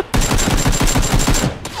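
Rapid bursts of automatic gunfire in the video game PUBG: Battlegrounds, loud and close, rattling in a steady string before stopping, followed by a brief electronic tone.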